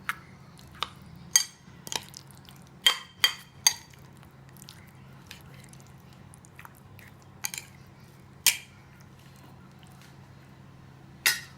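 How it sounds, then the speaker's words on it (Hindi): Chopped onions and capsicum are folded into a wet, spiced chicken tikka marinade in a bowl, giving a run of sharp, squelchy clicks and soft squishes at irregular intervals over a low steady hum, with no talking. "प्याज को भी हम इसी में डाल के मिक्स करते हैं"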